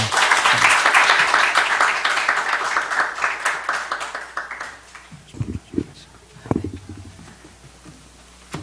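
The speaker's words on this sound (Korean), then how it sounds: "박수로 좀 맞이해 주시겠어요?" A church congregation at a Sunday service applauds to welcome a guest preacher, a steady wash of clapping that fades over several seconds into scattered thumps and rustling.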